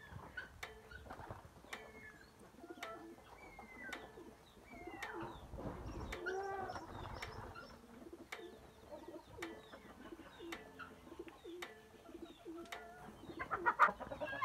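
Canaries chirp and tweet in short, bright calls repeated steadily, fairly faint, with soft rustling and outdoor ambience in between.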